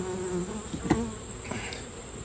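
A steady hum of many honeybees buzzing close by at an open hive, a dense continuous drone with individual bees passing nearer now and then.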